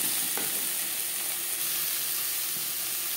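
Eggplant pieces being stirred with salt and turmeric in a hot pan, with a steady, close sizzle and a few faint spatula scrapes throughout.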